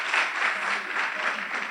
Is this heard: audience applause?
yes